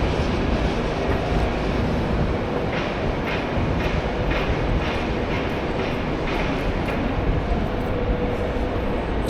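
A subway train moves through Bay station in Toronto, a loud, continuous underground rumble with faint rhythmic clacks and squeals from the wheels, and no voices.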